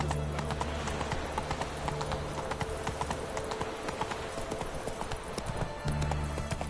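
Roach, a horse in the video game Witcher III: Wild Hunt (Enhanced Edition), gallops in a steady, loud clip-clop of hooves that runs throughout, over a constant ambient game background, with a brief whinny-like hint.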